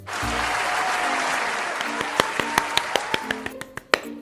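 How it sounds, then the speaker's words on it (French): A room full of people applauds, a dense wash of clapping that thins out toward the end into a handful of distinct, separate claps, with a brief voice at the start. "Applaudissez-les un peu"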